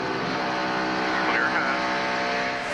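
NASCAR Winston Cup stock cars race at Chicagoland Speedway, a steady dense engine roar filling the whole clip while commentators talk over it.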